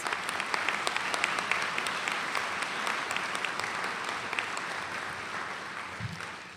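An audience at the UAS Juneau 2024 commencement ceremony gives a round of applause, many hands clapping in a steady, even roar that gradually tapers off at the end.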